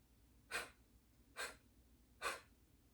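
Three sharp, forceful exhales through the nose or mouth come about a second apart during a seated chair-yoga breathing exercise. Each breath is close and brief, set against a quiet room with no voices.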